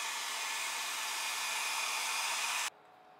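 A blow dryer runs with a steady, loud airy roar while heating carbon fiber fuel tank panels on a Ducati Scrambler Desert Sled motorcycle, then cuts off abruptly, leaving faint background hum.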